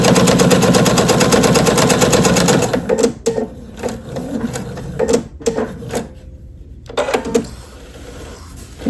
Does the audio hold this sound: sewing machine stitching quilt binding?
yes